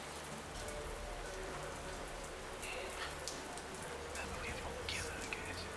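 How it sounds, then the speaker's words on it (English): Steady, heavy rain pours down continuously, a dense hiss of drops drumming on surfaces with no pauses. "The rain is so damn loud."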